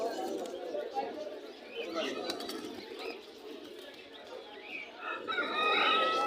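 Pigeons at a busy outdoor pigeon market in Jinjira, Bangladesh, coo and call among other fowl, a little distant, while people talk nearby.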